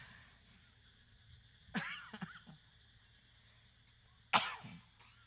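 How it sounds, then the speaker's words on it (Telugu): A person coughing, two separate bouts: a first burst of several rough coughs near the start, then a single sharper, louder cough followed by a short trailing hack, in an otherwise quiet room. "ఈ దగ్గు మామూలు దగ్గు అయ్యగారు"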